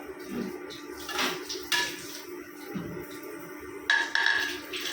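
Recipe ingredients for chicken momos being washed in a kitchen, with running and splashing water and clinking dishes and bowls in short close bursts.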